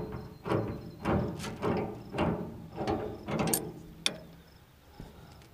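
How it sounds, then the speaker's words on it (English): Pliers work a small nut loose on the bottom of the fuel system of a 1962 Farmall 460 tractor, giving about six close, rhythmic ratcheting and scraping bursts roughly half a second apart, ending with a sharp click. "grab yourself a pliers and loosen up this little nut down here on the bottom."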